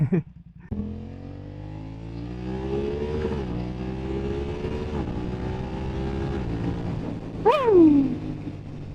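A BMW F900R sport motorcycle rides along steadily, its engine drone climbing smoothly through the gears with a short, sharp rev near the end, heard close from the rider's position over wind.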